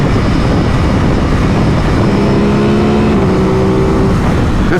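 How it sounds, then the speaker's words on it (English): Aprilia RS660 V-twin sport bike engine droning steadily on a ride, with a rising tonal whine and a short rev partway through, loud and continuous over wind rush. "This motor sound, addicting."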